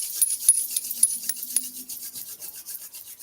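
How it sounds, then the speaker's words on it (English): Palms rubbed together briskly in front of the chest during a Kundalini yoga class, a close, steady run of soft swishing strokes in a quick, even rhythm, no talking. "bring your hands together at your heart center and rub your palms"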